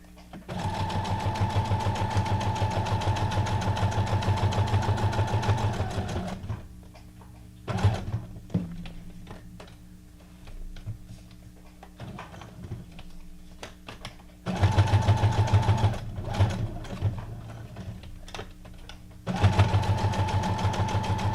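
A sewing machine runs in long continuous stitching bursts, a steady close mechanical whir that stops for quiet gaps with clicks and handling before starting up again; no talking.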